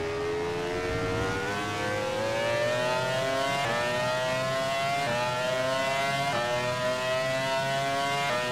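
Racing car engine from the Grand Prix 4 video game at Hockenheim, a loud, steady high whine that climbs slowly in pitch throughout, with faint pitch jumps at gear changes and no talking.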